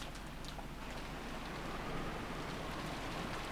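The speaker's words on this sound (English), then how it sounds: "What is this, rain?" A rain sound effect from the Umineko video game, a steady, even hiss of falling rain that holds at a constant level throughout with no voices over it.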